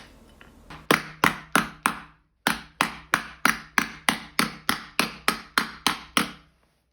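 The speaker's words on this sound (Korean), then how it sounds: "중심에 맞춰서 원형을 그려주고 나무망치와 싱킹망치를 이용해서 볼륨을 줍니다." Wooden mallet and sinking hammer strike a heat-annealed red copper sheet, raising a ladle bowl: about fifteen sharp, ringing metallic blows at a steady, even rhythm, close and alone, with one short pause early on.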